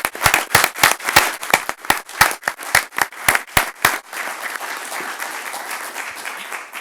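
A burst of hand clapping from a small group at a joint city council and commission meeting, sharp and rhythmic at first, then blurring into a steadier patter of applause before fading.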